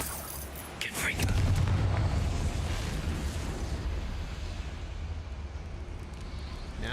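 A Confringo blast spell in Hogwarts Legacy detonates with a deep, loud rumbling boom that swells and then trails into a long, noisy decay, with a voice briefly present.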